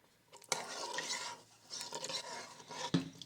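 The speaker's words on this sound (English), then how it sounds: "And stir it up some more." A spoon stirring mushroom soup in a pot, with soy sauce, dill and paprika just added, producing close scraping and swishing strokes in a couple of bursts, ending in a sharp knock against the pot.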